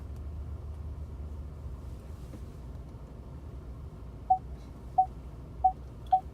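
A 2017 Ford F-150 XLT with a six-inch lift sounds its rear parking sensor while reversing toward an object: four short, evenly spaced tonal beeps over a low idling engine rumble.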